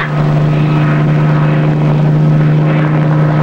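A propeller aircraft drones steadily overhead during a search in the woods, a constant loud hum with no voices.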